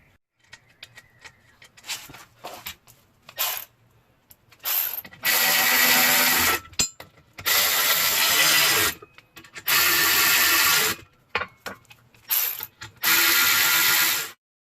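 A ratchet tightens nuts on a Toyota axle shaft wheel bearing puller, with loud, close bursts of rapid clicking between short quiet pauses and a few scattered clanks.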